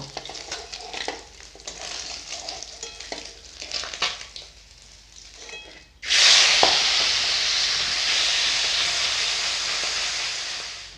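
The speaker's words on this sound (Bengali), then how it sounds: "মাছগুলো ভাজা হয়ে গেছে তুলে নিব এইভাবে সব মাছগুলো ভেজে নেব" Fish frying in oil in a home kitchen: scattered spatula clatter and light sizzling at first, then a sudden loud, steady hissing sizzle that fills the rest, close by.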